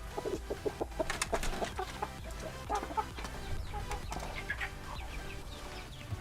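Free-range village chickens in Tabanan, Bali, cluck busily close by while pecking at homemade compost scattered as feed, with short repeated calls over scratching and shuffling noise.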